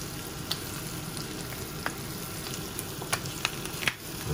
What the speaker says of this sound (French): Là, donc le beurre et la farine forment un petit empois.